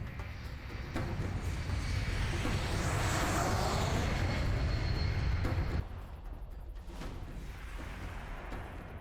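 A plane's engines roar in the video game Alpha Protocol, a dense, loud and constant drone that drops abruptly to a quieter steady hum partway through, with no speech.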